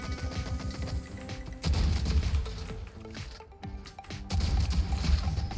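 Video game gunfire in Rogue Company, rapid repeated shots in dense bursts with brief pauses, loud and close, with no talking over it.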